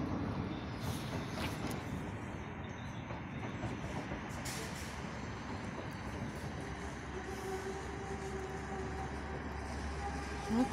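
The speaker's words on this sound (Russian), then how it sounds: "Смотрите, поезд едет." A train rolls past near Poznań, Poland, with a steady rumbling clatter of wheels on rails, continuous and moderately close, with a brief brake-like hiss near the end.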